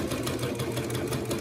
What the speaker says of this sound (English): I'm gonna sew over it.